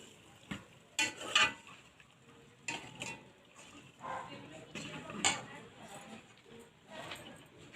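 Chicken and cauliflower masala stir-fried in a pan, with a utensil scraping and clinking against the metal in irregular bursts over a soft, steady sizzle, close by.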